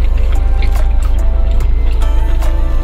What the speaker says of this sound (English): Just fill this up and just squeeze it out.